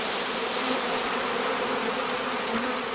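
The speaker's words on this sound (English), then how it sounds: "With a jolt, he shakes the swarm clusters into a catching skep." A honeybee swarm being shaken into a straw skep makes a dense, continuous buzzing drone, loud and close, with no voices.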